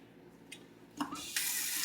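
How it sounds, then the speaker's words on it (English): Cold water runs from a kitchen tap while cooking, starting as a faint trickle and swelling into a steady, loud near rush of flowing water after a brief clank. "Get our cold water running."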